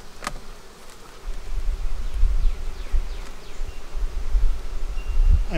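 Honey bees swarm around an open beehive during a hive inspection, their dense, continuous buzzing close and loud. Soft handling thumps and rustles sit beneath the buzz.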